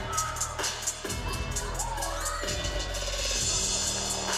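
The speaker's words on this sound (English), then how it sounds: "them having that giant cheering section right next to the stage" Supporters of AKA cheer in a big crowd beside the stage at the 2022 AKA Warrior Cup finals, a steady roar of voices and whoops running the whole time, loud and close, with some shouting mixed in.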